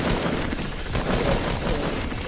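Rapid continuous bursts of automatic gunfire in a Fortnite Battle Royale match, dense and loud throughout with no pause.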